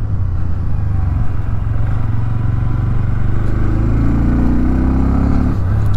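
Close, continuous drone of a 2024 Bajaj Pulsar N125's two-valve air-cooled single-cylinder engine while riding on a track, holding steady before rising in pitch as it accelerates near the end.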